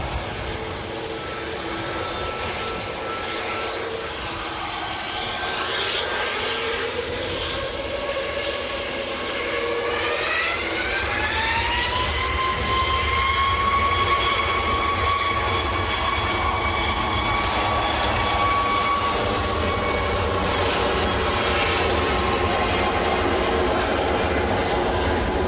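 A Ryanair jet airliner at Manchester Airport rolls along with a broad engine roar and a rising, sustained whine that builds partway through and holds steady at a fairly close, loud level for the rest of the stretch.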